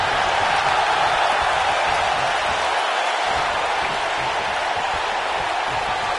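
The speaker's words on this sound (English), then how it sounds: "by the sound of this crowd" Crowd noise from the WWE 2K19 wrestling video game during a WCW Halloween Havoc '91 match, a steady, even roar of cheering that holds at constant loudness throughout.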